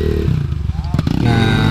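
Dirt bike motorcycle ridden on the Langkaan trail, fitted with a Tubliss system and DID 520 VR chain; a loud, close engine drone with harmonic whine and rising revs, some clatter and thuds, with voices present.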